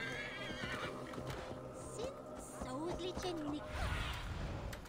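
A horse neighs and whinnies in Assassin's Creed Valhalla, with hoof clip-clops and game ambience around it and a person talking over the sounds.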